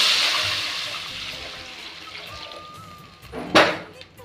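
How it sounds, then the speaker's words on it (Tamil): Tamarind and tomato water poured into a pot for rasam, a splashing rush at first that thins to a trickle, ending with a brief louder splash. "ஏற்கனவே நம்ம கரைச்சி வச்சுக்கிற புளி, தக்காளி தண்ணியை ஊற்றி சேர்த்துக்கலாம்."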